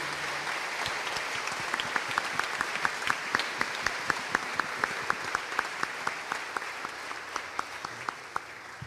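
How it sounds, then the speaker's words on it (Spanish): Church congregation applauding during a prayer service, many hands clapping in a steady, fairly rhythmic pattern that gradually thins out, moderately loud and close. "Vamos a darle un aplauso a la palabra de Dios fuerte."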